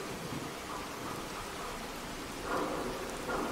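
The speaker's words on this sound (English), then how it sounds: "Get out of the rain." Rain falls steadily in Fallout 4, a dense, even patter of drops that swells slightly a couple of times, with no voices.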